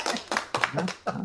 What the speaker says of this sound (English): Let's give a MOSh round of applause for Lucinda and Oran.